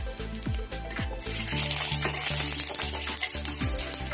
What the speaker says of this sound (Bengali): কড়াই তেল দিয়েছি, গরম হয়ে গিয়েছে। জিরে ফোড়ন